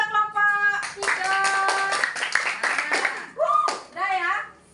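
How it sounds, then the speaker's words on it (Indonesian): Primary school pupils clap in a classroom for a presenting group, brief rhythmic clapping mixed with children's voices and a teacher talking over it. "tepuk tangan untuk kelompok 3"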